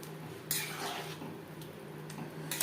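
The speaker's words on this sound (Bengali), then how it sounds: "দিয়ে দেব ভেজে রাখা পকোড়া গ্রেভির সাথে বেশ ভালো করে মিক্সড করে দেব" Fried pakoras being stirred into chilli chicken gravy in a pan, with a few sharp clinks of a utensil against the metal over a low, steady background hiss.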